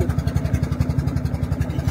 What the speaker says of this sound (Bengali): দেখুন দুটো জোড়া বোট যাচ্ছে।